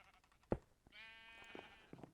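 A Minecraft sheep gives a single close, wavering bleat after a short click, standing alone without talk.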